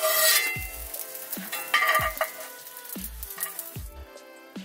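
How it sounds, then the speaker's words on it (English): A grilled cheese sandwich sizzles steadily as a spatula presses it down hard in a pan at a truck camper rally in Quartzsite, Arizona, with repeated scraping and clanking stirs over a constant frying hiss, close and moderately loud. "we're going to put the spatula on and we're going to apply a lot of pressure. We're just going to push this sandwich down."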